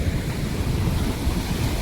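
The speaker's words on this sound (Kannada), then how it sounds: "ಯಾವ ರೀತಿ ಅಲ್ಲಿ ಫುಲ್ ಜೋರ ಅಲೆಗಳು ಬರ್ತಿವೆ" Strong ocean waves surging onto Gokarna beach in Karnataka, heard as a dense, steady roar of surf, close and loud, with no voices.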